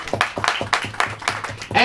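A congregation at a Hindi-language church service claps in quick, steady rhythm, about four claps a second, loud and close, with a voice briefly rising at the end.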